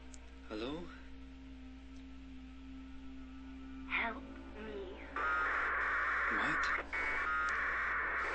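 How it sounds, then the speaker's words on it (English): America Online dial-up sign-on noise from Silent Hill 4: chirping tones and rising warbles lead into a loud, steady band of harsh modem screeching for the last few seconds, with a low hum underneath. "suddenly the America Online sign-on noise"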